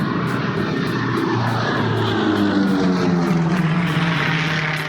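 A propeller airplane roars past in a low flyby at the Oshkosh AirVenture air show, loud and steady throughout with a sweeping drone and shifting engine tone, no talking.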